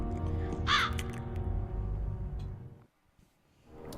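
Crows caw in the video game Still Life, a single harsh call rising over a low ambient rumble before the scene drops nearly silent.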